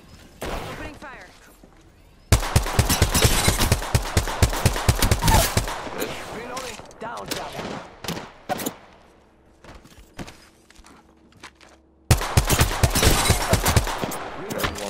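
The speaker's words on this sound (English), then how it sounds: "Opening fire." Automatic weapons fire in Apex Legends on PS4 comes in long, rapid bursts of loud shots, with a brief burst at the start, a sustained volley, a quieter gap, then another sharp burst near the end.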